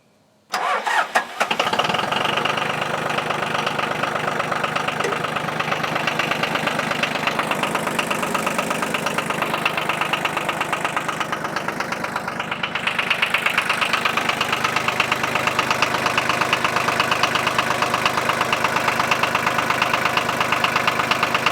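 A tractor engine cranks and catches after a steering hydraulic hose replacement, then settles into a steady, loud, unbroken idle with a low mechanical knock running under it.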